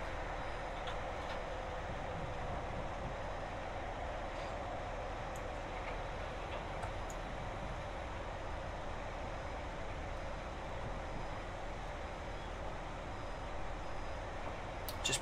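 Intercity HST train running in Train Simulator 2018 on the Carlisle to Glasgow line, a steady low rumble and broadband rail roar that holds even and constant throughout, moderately quiet, with no talking.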